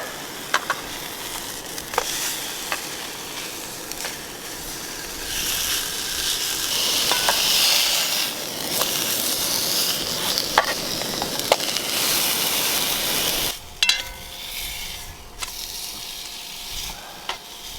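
Steaks fry in a pan at a sub-zero backcountry campsite, a steady bright sizzle with occasional clinks and crackles, the sizzle dropping sharply near the end as the heat fades.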